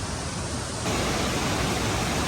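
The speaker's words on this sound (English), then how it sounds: "that right there is the first half of Cane Creek Falls" Swollen creek water rushes over the first half of Cane Creek Falls after days of rain, a loud continuous broadband roar that surges a notch louder partway through and stays steady, unaccompanied by talk.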